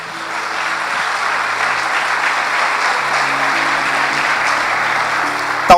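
Sustained applause from a church congregation during a consecration service, a dense steady wash of many hands clapping throughout with low organ or keyboard tones held beneath.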